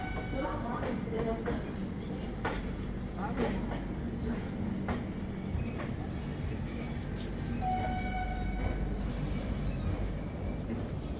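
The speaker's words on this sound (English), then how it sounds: "The train started with a delay of just over 5 minutes" Patna–Mumbai LTT Janta Express running, heard from on board: a continuous low rumble of wheels and carriage with recurring rhythmic clacks and knocks, moderately quiet, with some faint voices in the background.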